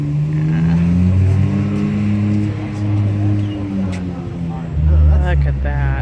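A Chevrolet Monte Carlo with a big-block engine idles and rumbles in a deep, uneven burble on a street. A short rev comes near the end, and people talk over it.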